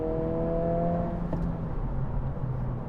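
A car engine hums through downshifts to fifth and fourth gear on a short straightaway, a steady low drone with a brief tonal rise at the start and a sharp click midway, with no voices.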